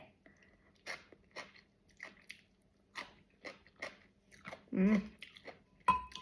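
Someone eating spicy som tam papaya salad with grilled chicken: a string of close, crunchy bites and moist chewing, with one louder, deeper burst near the end.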